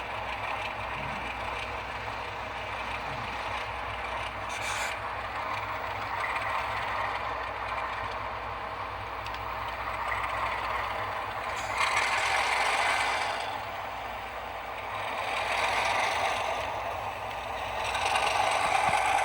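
Continuous mechanical clattering and whirring of several small model locomotives running on a club layout, each engine sounding independently, with rhythmic ratcheting and swelling motor hum.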